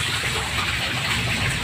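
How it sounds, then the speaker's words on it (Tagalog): Water gushes steadily out of a catfish fingerling tank as it is drained through a removed hose, a continuous broad rushing splash with no pauses, close and fairly loud. "Ganyan yung pagpapalit ng tubig."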